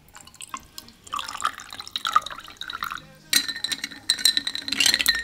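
Cold water poured into a glass of pastis, a gurgling trickle with clinks of glass, close up, and a brief louder splash and ringing chinks near the end.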